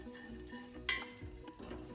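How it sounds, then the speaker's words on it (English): Ground chili powder, cumin and Hungarian paprika warm and stir in a soup pot, giving a soft, low sizzle with scraping utensil sounds and one brief brighter clink near the middle. "Warm up these spices just enough so they release their flavors."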